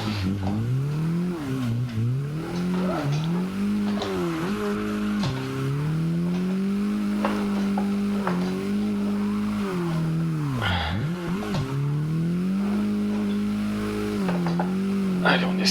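A Mazda MX-5 Miata drifts at CG Drift Park, its engine revving hard and continuously, pitch surging and dropping with each throttle stab, with tire squeal rising in bursts close by.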